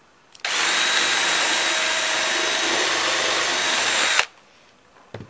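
Power drill with a half-inch bit boring a hole for a floating shelf support pin, one loud, steady whine of about four seconds, starting and stopping abruptly.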